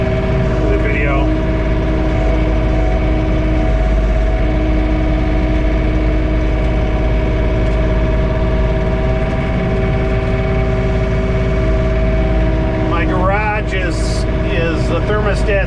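A John Deere 3046R compact tractor engine runs steadily at about 1700 RPM, heard from inside the cab during a blizzard, with a constant low drone and hum and a brief voice near the end.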